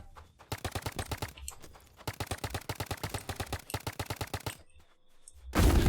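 Paintball guns firing in the Roblox game Big Paintball 2: quick rattling bursts of rapid shots come in several runs with short pauses between them, fairly close, followed by a sudden heavy thump at the end.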